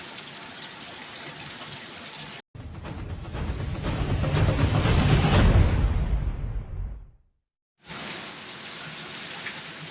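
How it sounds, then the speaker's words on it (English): Steady rain in an outdoor setting, a dense broadband hiss that swells louder for several seconds, cuts out briefly, then returns at a constant level. "it's raining here"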